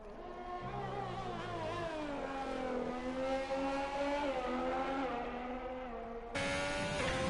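Onboard engine of a Ferrari race car in a racing video game on a qualifying lap at Bahrain, a loud, steady high-pitched whine whose pitch climbs and dips through gear changes, then a sudden jump in pitch near the end, heard alone.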